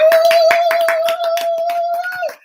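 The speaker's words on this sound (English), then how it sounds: "let's give a great big round of applause for Sherry" A single person claps for a subscriber contest winner, a quick string of roughly a dozen close, loud hand claps while a steady musical tone plays underneath, then it stops abruptly.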